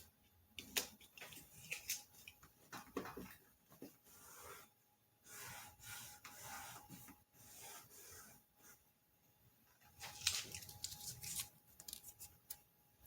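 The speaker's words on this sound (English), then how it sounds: "I'm going to cut off the excess" Scissors snipping off the excess of a replacement cutting strip on a vinyl cutter, a series of close, quiet rubbing and cutting strokes in uneven bursts with short pauses, no voices.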